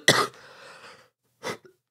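A person coughs during a livestream, a sharp burst followed by a softer trailing rasp and a second short cough, close to the microphone.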